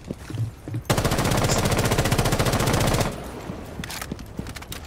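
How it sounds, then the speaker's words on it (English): Rapid automatic gunfire in Rainbow Six Siege rattles out in one loud sustained burst of evenly spaced shots lasting about two seconds, with scattered single shots and game sounds before and after. "I'm gonna just start shooting solid ass walls."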